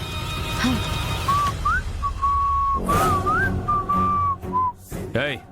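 A person whistles loudly in a series of sustained, wavering high notes, with short gaps between phrases and a few brief sliding tones near the end.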